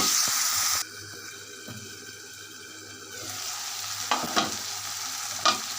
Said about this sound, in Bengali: তিনটে শুক্তি দিয়ে দুটো আলু দিয়েছি ছোট করে এটা আমি ভালো করে কষিয়ে নেব